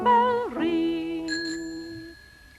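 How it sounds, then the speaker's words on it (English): A toy-show bicycle bell rings in a single bright, sustained ting that lingers and slowly decays, clear and alone with no voices over it. "You can hear his bell ring."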